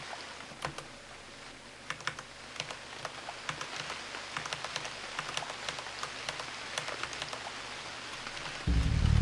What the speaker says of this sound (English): I can't sleep outside in the rain.